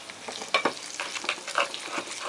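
Soft eggplant sizzles gently in a pan while it is stirred, giving several quick scraping strokes over a faint, close frying hiss.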